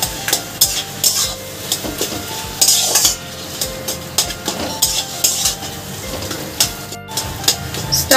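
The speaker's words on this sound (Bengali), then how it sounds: "তার সাথে আমি আলুগুলোকে ভালো করে ভাজা ভাজা করে নেব।" Boiled potatoes with chilli powder fry in a pan for a semolina idli stuffing, with steady sizzling and repeated clinks and scrapes of a spoon stirring against the metal.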